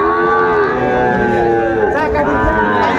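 Loud, close mooing from young bull calves at a cattle market, a drawn-out bovine call with overlapping lowing voices.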